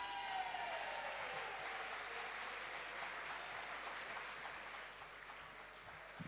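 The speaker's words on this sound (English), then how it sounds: "Give him a big round of applause, ladies and gentlemen." Comedy club crowd applauding comedian Tim Vine at the close of his set, a full, steady roar of clapping that carries on without a break and fades slightly toward the end.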